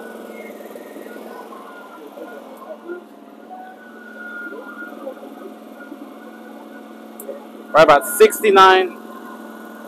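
A Duromax XP16000iH inverter generator hums steadily at idle in eco mode, an even mid-pitched drone, with a short burst of speech near the end.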